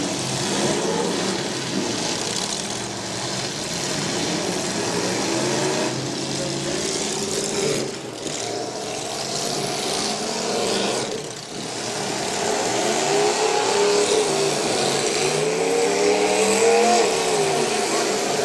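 Pickup truck engines rev and roar continuously at a county fair demolition derby, a loud, dense mix of several engines rising and falling, with crowd noise and announcer talk mixed in.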